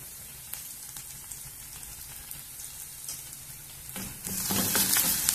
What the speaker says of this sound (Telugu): కొంచెం పచ్చివాసన పోయేంత వరకు వేయించుకున్నాము అల్లం వెల్లుల్లిని